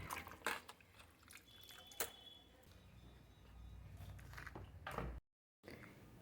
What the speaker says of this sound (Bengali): চলুন এগুলো কলের কাছে ভালো করে ধুয়ে নিই